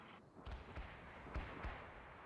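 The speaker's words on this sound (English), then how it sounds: "That tank is shooting at us." Tank cannon fire in the World in Conflict video game, four muffled booming thuds spaced unevenly over a steady battle rumble, fairly distant and low in level.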